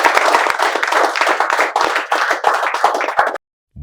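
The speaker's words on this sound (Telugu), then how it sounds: "మేము చప్పట్లతో స్వాగతాన్ని తెలియజేస్తున్నాం" An audience claps to welcome students at a spoken-English institute, with loud, close, dense applause that runs steadily before cutting off abruptly into silence.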